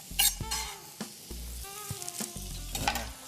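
Sliced onion being stirred in a pan, heard as several scraping, clattering spoon strokes over a low, steady sizzle, near and fairly quiet, with no talk.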